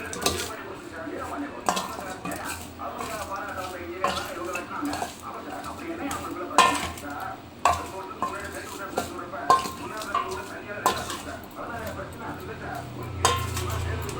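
Chilli powder being stirred into a cooking pot in a home kitchen, with repeated metallic scraping and clinking of a utensil against the pot, close and steady throughout, plus a heavier clank near the end.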